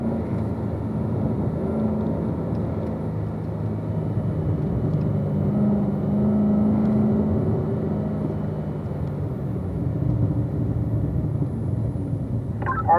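A race car drives on a track through a corner, its engine a steady droning rumble held at a fairly constant level throughout, heard alone without any voices.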